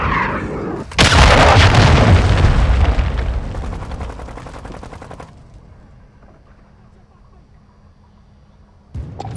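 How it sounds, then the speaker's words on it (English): A cruise missile strike in Call of Duty: Modern Warfare 2 hits with a sudden loud blast that rumbles and crackles, then slowly fades into a low tail. "Friendly cruise missile approaching target"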